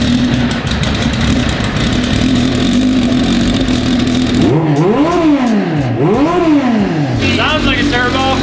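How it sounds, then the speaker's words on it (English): A turbocharged mini truck engine drones steadily, then revs up and down three times in rising and falling sweeps, ending with a high turbo whine. "Sounds like a turbo."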